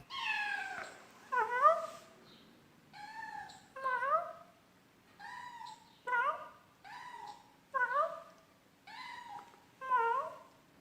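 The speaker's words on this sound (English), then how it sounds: "I'm going to just show you this kitten" A kitten meows again and again, nearby and clear, each cry rising and falling. About a dozen calls come at a steady pace with short gaps between them, and no voices.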